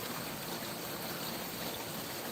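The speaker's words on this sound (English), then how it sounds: "So the water comes in back there." Water trickles steadily into a small garden stream overgrown with ivy, making a continuous close hiss and babble with no voices.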